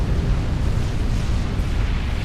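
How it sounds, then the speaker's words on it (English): A nuclear missile explosion in the real-time strategy game Supreme Commander: Forged Alliance, heard as a loud, sustained, rumbling roar that holds steady for the whole stretch. "Is the nuke slow enough that he's going to walk into that explosion?"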